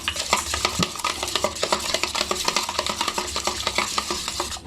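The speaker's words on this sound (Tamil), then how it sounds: "நல்லா கலக்கிடுவோம் முட்டையை." An egg is beaten in a bowl with quick, rhythmic strokes, giving a fast run of close clinks and taps of the utensil against the bowl's side.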